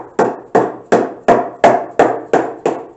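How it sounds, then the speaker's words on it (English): A big hammer beats on a fiberglass nose bowl mold for an Earl's Buttercup aircraft, eight loud, evenly spaced knocking blows in a steady rhythm, each with a short resonant ring, close and alone. "I get the big hammer out and I kind of do a little bit of beating and banging"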